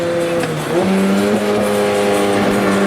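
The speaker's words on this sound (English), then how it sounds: "it's so easy to rev match." A high-mileage Lotus Exige S engine holds a steady, loud drone with harmonic tones that dip and climb as the revs shift, sustained throughout with no talking.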